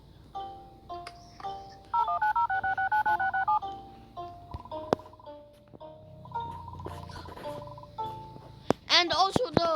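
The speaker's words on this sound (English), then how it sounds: "find the emergency phone so we can call for help" Emergency phone being dialed in the game Airplane 4 story, a series of distinct DTMF keypad beeps and a longer tone, followed by speech near the end.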